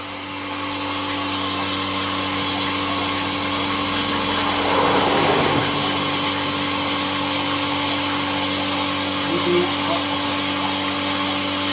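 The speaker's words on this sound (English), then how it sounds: "You can hear that the single pump is working." A single pump emptying a tank drones steadily with a constant mechanical whine and hum, running continuously at close range without pause.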